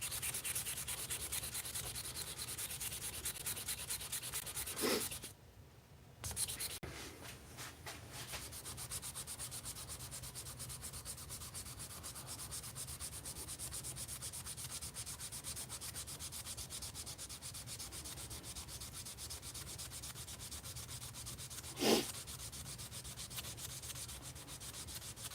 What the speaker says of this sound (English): I'll just sand that